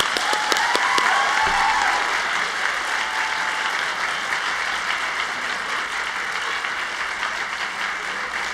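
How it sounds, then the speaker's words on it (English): A commencement audience rises and claps loudly, a dense, sustained wave of applause from a large crowd that starts with a few sharp claps and holds steady before easing slightly. "if you would stand and clap very loudly"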